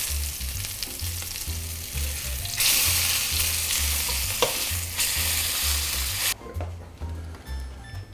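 Beef short ribs frying in a hot pan, with a loud steady sizzle and crackle of rendering fat, intensifying for a few seconds before easing, over a low rhythmic hum of background music.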